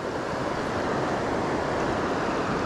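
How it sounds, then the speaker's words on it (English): Clear river water flows steadily over the bottom of a fly-fishing stretch on the Ausable River, a continuous broadband rush, fairly loud and unbroken, with no talking. "The water's clear, flowing pretty good."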